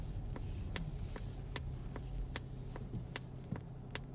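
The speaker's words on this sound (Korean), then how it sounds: "깜빡이 소리가 들리실 텐데" Steady, regular ticking clicks of a Polestar 2's turn signal inside a quiet cabin, about two per second over a low hum.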